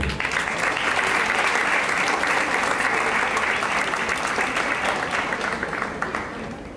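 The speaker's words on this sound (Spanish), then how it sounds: "Recibamos pues con un fuerte aplauso al doctor Diego Alonso Castrillón." A conference audience gives a loud, sustained round of applause to welcome Dr. Diego Alonso Castrillón at a cognitive psychotherapy lecture in Medellín, with dense clapping that holds steady and tapers slightly at the end.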